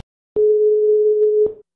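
A telephone dial tone sounds as a phone-a-friend call is placed: a single clean, steady hum lasting about a second, starting and stopping abruptly with a short tail, alone in silence.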